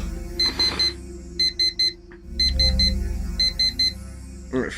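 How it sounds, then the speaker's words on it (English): Electronic alarm clock in a video game beeping in quick bursts of four, repeating several times, loud and tinny over a low rumble. "freaking alarm"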